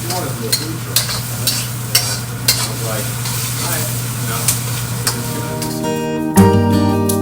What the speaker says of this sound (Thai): คนโคราชผัดหมี่